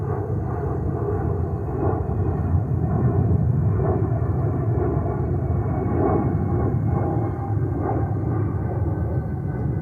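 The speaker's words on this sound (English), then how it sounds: "it's a 321 Neo from Delta" Delta Airbus A321neo jet at JFK airport in New York, a steady loud broadband engine roar that holds evenly throughout with no talk over it.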